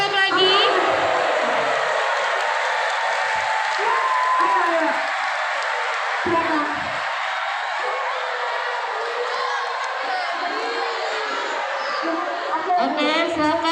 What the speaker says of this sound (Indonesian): Tepuk tangan untuk Pandia.